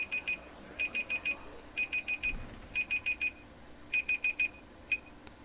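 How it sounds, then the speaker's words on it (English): A timer alarm goes off in repeated quick bursts of four beeps separated by short pauses, moderately loud and clear over faint background noise. "And that's my timer."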